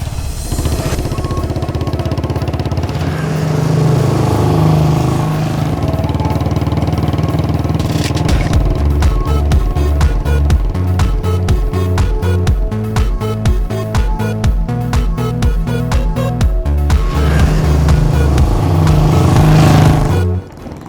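A motorcycle in a Hindi-dubbed South Indian action film runs with a loud, steady engine drone whose pitch shifts as it rides. The sound carries on for about twenty seconds, then cuts off abruptly.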